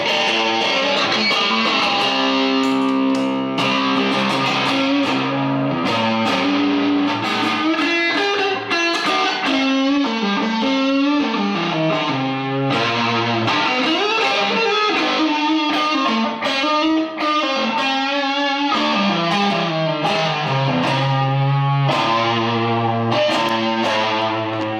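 Electric guitar played through a reverb pedal, with a chain of budget effects pedals and some distortion, runs continuously as a melodic line of sustained, ringing notes with a washy tail, alone and without talk.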